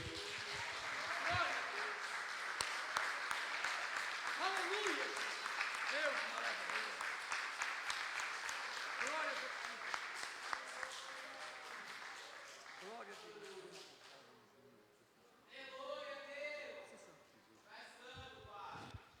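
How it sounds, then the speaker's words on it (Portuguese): A church congregation applauding during a Protestant service, sustained clapping with a few voices calling out over it, fading away before a speaking voice returns near the end. "Vamos aplaudir ao Senhor."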